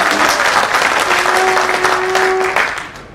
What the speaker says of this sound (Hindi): मुशायरे की कामयाबी के लिए एक बार आप जोरदार तालियां